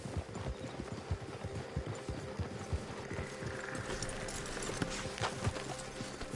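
Horses in Red Dead Redemption 2 clop and shuffle on the ground as riders dismount, with steady, fairly faint hoof beats and light tack jingling, with no talk.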